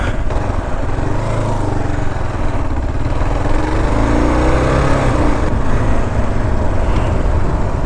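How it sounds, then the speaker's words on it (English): A KLR 650 dual-sport motorcycle on an ATV trail, with a leaking exhaust header gasket, runs loud and close: a continuous rough engine drone with a gritty, mower-like rasp throughout. "Oh, do you hear the front? I gotta tighten up that that header gasket again."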